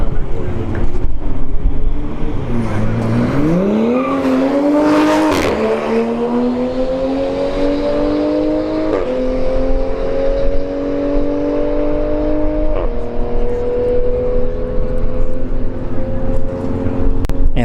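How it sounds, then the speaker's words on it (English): Two BMWs, a 2 Series and a Supra, launch side by side at a drag strip, their engines roaring loud and steady as they rev up through the gears, the pitch rising in stages with gearshift breaks along a long run. "We have the 2 Series Beamer in the right lane versus the BMW"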